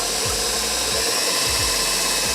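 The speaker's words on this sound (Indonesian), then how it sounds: "Kemudian kita pasang whisknya. Kita nyalakan di speed 2 ya." An electric mixer whisks egg whites with cream of tartar and salt at speed 2, giving a steady close whirring drone with faint rhythmic low thumps of the beaters against the bowl.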